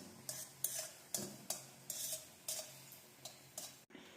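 Spicy Buldak noodles tossed with sauce, a utensil scraping the bowl in about ten quick, evenly spaced strokes, close and fairly quiet with no talking.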